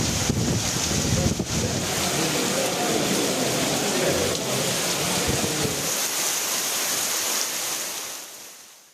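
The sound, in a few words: heavy rain falling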